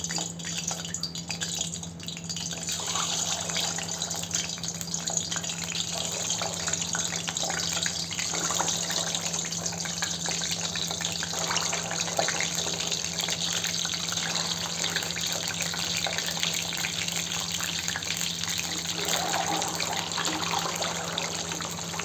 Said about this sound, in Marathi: तेल गरम झालेलं आहे. यात आपण अंडे घालू.